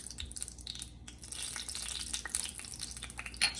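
Spices frying in melted coconut oil in a pan, a quiet continuous sizzle with scattered small pops and crackles.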